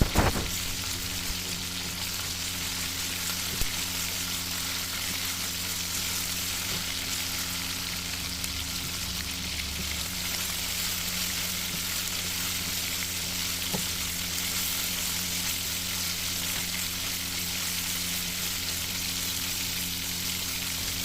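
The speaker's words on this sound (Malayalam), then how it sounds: "ഇഞ്ചി വെളുത്തുള്ളി പേസ്റ്റും കൂടി ചേർത്ത് പച്ചമണം പോകുന്ന വരെ നല്ലോണം വഴറ്റിയെടുക്കാം" Onion with ginger-garlic paste sautéing in a pan for a Kerala-style beef curry, giving a steady, close sizzle and crackle that runs throughout with no voices.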